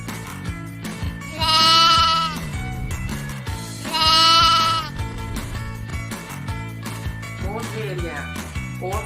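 A sheep gives two loud, drawn-out bleats a couple of seconds apart over a steady background music bed, with a softer animal call near the end.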